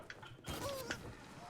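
A zip line in the Sea of Thieves video game gives a short creaking, mechanical squeak as a rider sets off, brief and moderately close.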